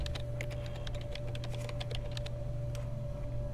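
Rapid computer keyboard typing, a close, continuous run of quick key clicks over a low steady hum, with no talking.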